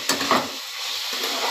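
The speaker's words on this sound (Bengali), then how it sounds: "এবার শালগম আর টমেটোটা দিয়ে দিলাম মশলার সাথে। এবার ভালো করে কষাবো" Turnip and tomato are stir-fried with spices in a pan, a couple of quick scraping stirs over a soft continuous sizzle, close by, no voices.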